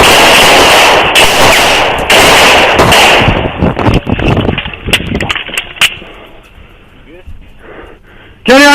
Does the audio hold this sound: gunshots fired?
yes